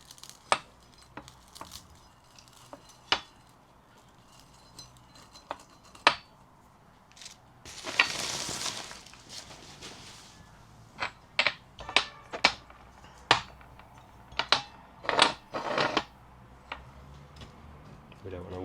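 A compressed cake of rare Golden Triangle tea leaves is broken apart by hand, giving sparse sharp cracks and snaps with one longer crunchy rustle in the middle, close and quiet, with no talk over it.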